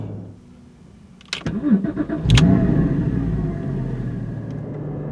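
A Porsche 981 GT4 engine cranks and fires up with a sharp clatter, then settles into a loud, steady, rumbling idle close by.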